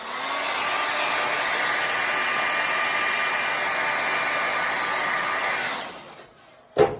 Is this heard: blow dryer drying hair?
yes